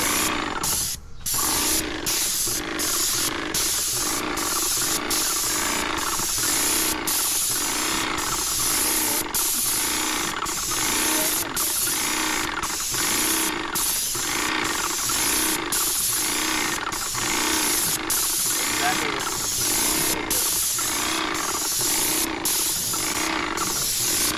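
A paint spray gun hisses continuously and loudly while coating a G35 car, a steady unbroken spray with rhythmic pulses and almost no talk over it.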